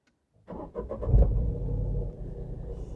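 A Tata Altroz engine cranks and catches with a quick burst, then settles into a steady, close idle rumble that continues alone to the end.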